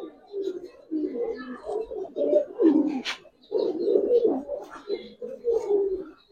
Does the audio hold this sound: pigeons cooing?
yes